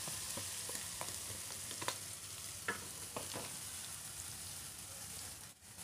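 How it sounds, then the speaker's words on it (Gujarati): Green chilli paste going into a hot pan for a Gujarati mutton dal, giving a steady close sizzle with scattered stirring scrapes and small taps, no talking. "હવે આના અંદર લીલા મરચાંની પેસ્ટ નાખીશું"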